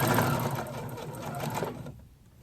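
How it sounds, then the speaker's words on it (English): A sewing machine runs steadily, stitching the front and back pieces of a pink self-drafted coat together, a close continuous whir that stops near the end. "I think in this clip I'm sewing the front to the back"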